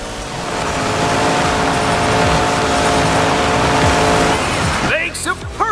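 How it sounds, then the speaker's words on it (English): A monster truck spinning a donut at a Monster Jam freestyle run. The engine roars loudly and steadily with tire squeal for several seconds, then cuts back near the end as a voice rises over it. "Makes a perfect donut"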